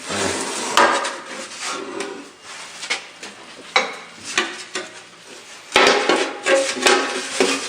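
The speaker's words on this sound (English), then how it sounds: "It's got the recess in the middle so I can hit it with the hammer" A hammer strikes an aluminum shovel laid over a bending die, a run of close, sharp metallic knocks in an irregular rhythm, some louder than others, with no talking.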